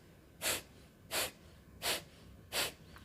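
Four sharp, forceful nasal exhalations of kapalbhati breathing, evenly spaced about 0.7 seconds apart, each a brief airy rush standing out against quiet background hiss.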